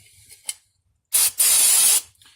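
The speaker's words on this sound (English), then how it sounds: "Now spray on a rag some non-chlorinated brake cleaner." Two short hissing bursts from an aerosol can of non-chlorinated brake cleaner sprayed onto a rag, the second longer, close up in a quiet room.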